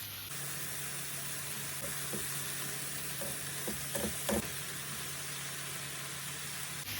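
Steady sizzle of onions and mushrooms frying in a pan, a continuous hiss with a few soft clicks and pops near the middle.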